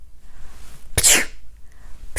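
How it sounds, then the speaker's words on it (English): One sharp, close human sneeze bursts out in the middle of an otherwise quiet stretch, with no speech around it. "Sneeze."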